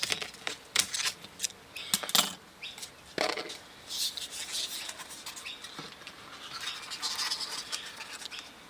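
Scissors snip through material in a few sharp, close cuts, followed by rustling and handling noises.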